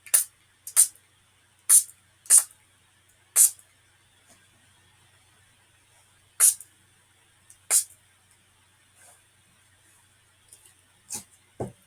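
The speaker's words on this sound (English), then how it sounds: "Spray just a little bit of water." A handheld spray bottle squirts water onto a painting in a series of short, crisp hissing bursts, about nine of them with irregular pauses, close and otherwise quiet.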